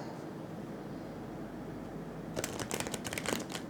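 Tarot cards being shuffled, a soft riffling flutter of quick ticks near the end over a quiet hiss.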